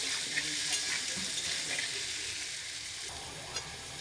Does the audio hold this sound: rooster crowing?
no